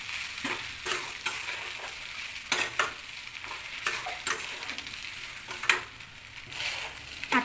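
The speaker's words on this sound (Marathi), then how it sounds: "तर पोहे आपण चांगले मिक्स करून घ्यायचे मसाल्यामध्ये." Poha flattened rice tossed with spices in a frying pan, the spatula scraping in quick irregular strokes over a steady low sizzle, close and moderately loud with no talking.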